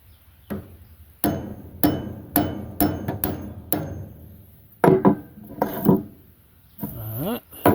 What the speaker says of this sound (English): sometimes you've got to tap this shaft.